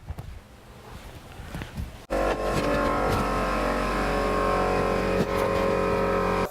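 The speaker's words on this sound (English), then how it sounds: "I'm going to turn on my air compressor. My air compressor is really loud." A loud air compressor starts up abruptly after a quieter stretch of rustling, then runs at a steady, close, droning hum while preparing to fill a Schwinn Stingray bicycle tire.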